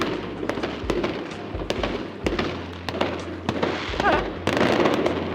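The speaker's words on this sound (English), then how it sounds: "Oh, fireworks!" Fireworks burst repeatedly over the ocean in Malta in quick succession, sharp booming pops over a crackling background, with a little crowd noise mixed in.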